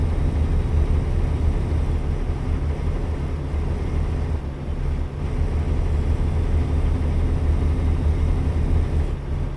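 A truck engine in American Truck Simulator drones at a steady, even pitch, with a low rumble that dips briefly midway and carries on alone without any talk.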